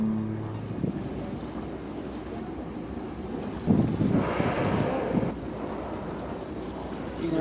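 Whale-watching boat motors drone over open water near orcas and whales amid gusting wind and lapping waves, with a louder surge of wind noise midway.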